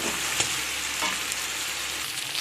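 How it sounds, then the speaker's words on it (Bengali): Pieces of chicken fry in hot oil seasoned with salt and turmeric for Beresta chicken, giving a steady, close crackling sizzle with a few louder pops and stir scrapes and no voices. "প্রায় মিনিট পাঁচেক ধরে আমি চিকেনটাকে ভেজে নিচ্ছি"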